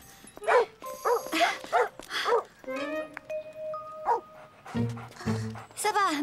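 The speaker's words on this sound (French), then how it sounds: "Ils sont à vous, ces deux chiens?" Two dogs bark and yip in quick bursts, mixed with whimpering, close by and fairly loud, with a voice speaking briefly in between.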